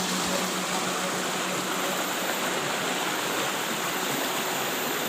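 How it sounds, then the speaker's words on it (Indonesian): A river stream flows steadily in a broadband rush of water, close and continuous, with no voices over it. "ini ya sungainya, sepertinya sangat potensi"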